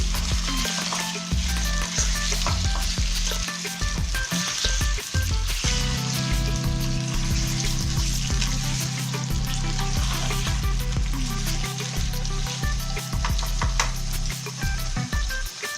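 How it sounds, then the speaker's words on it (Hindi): Chicken pieces fry on a high flame for Afghani chicken karahi, giving a loud, steady sizzle with occasional stirring scrapes and clinks running throughout, with no talking. "चिकन को मैं फ्राई करूंगी।"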